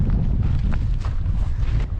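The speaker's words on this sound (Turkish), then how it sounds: "Çok rüzgar esiyor." Strong wind buffeting the microphone on a coastal hillside path near Knidos, Datça, Turkey, a continuous low rumble with gusty surges, loud and close, with no talking.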